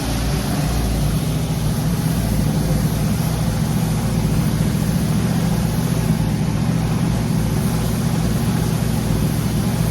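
A 1934 Ford 3 Window Coupe engine running in a garage, a steady, close, loud low rumble held without change for ten seconds, with no voices over it.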